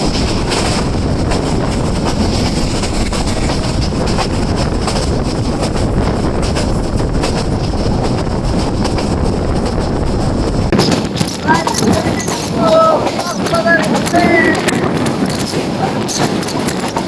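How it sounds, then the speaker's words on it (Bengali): Passenger train running toward Dhaka with steady rumbling and strong wind buffeting the microphone, continuous and loud, easing slightly near the end. "10 মিনিট দাঁড়িয়ে ট্রেনটি রওনা দিল আবার"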